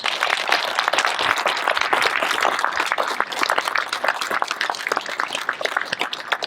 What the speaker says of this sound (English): would you join me in a round of applause for them, please?